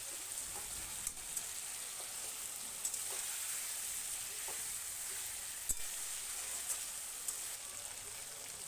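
Chili paste is stirred in a hot pan and sizzles with a steady, soft, hissing crackle, while faint scrapes and taps of the stirring utensil break through now and then.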